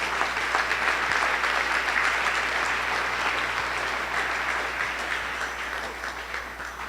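A Sunday service congregation gives a long, even round of applause, a thick wash of clapping that stays steady before easing slightly at the end, with a low electrical hum underneath.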